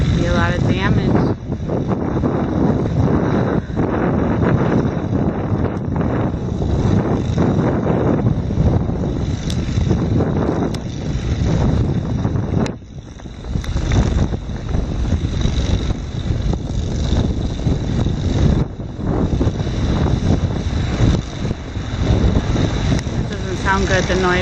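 Strong wind buffets the microphone beside a harbour during a fire, a steady roaring rumble with gusty swells that runs throughout, briefly dipping near the middle.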